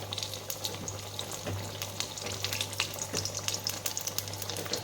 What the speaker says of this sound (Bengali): এই দেখুন এইভাবে আমি ভেজে নিচ্ছি মুচমুচে হয়